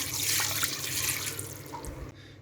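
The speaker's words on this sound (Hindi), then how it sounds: "जी तो 1 गिलास पानी ऐड कर देंगे इसमें।" Water from a glass is poured into a mutton karahi in a pressure cooker with garlic paste, giving a steady close splashing pour that tapers off near the end.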